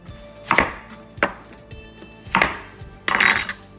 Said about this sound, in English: cut the onion in the middle